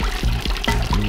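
Water pumped through a clear hose from a barrel tank pours into a backyard water table, a steady splashing stream running throughout, close and fairly loud.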